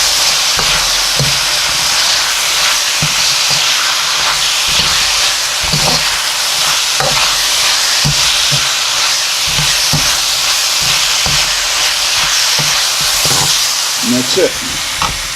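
Pork and onions stir-fry in a hot pan with a loud, continuous sizzle, while repeated scraping strokes of stirring cut through. A brief spoken remark comes near the end.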